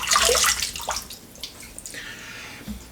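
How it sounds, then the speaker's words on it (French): Water splashes and drips from a sink as a face is wetted before a traditional wet shave, with a brief burst of splashing followed by quieter, scattered drips, close and fairly soft. "on va se mouiller la figure à nouveau"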